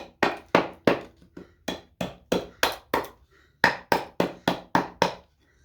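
A hatchet chops cedar wood to rough out a carved leaf, landing sharp, close thwacks in quick irregular bursts of two to four strokes separated by brief pauses, with no voices.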